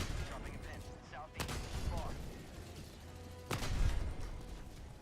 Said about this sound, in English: Oh, it's a tank.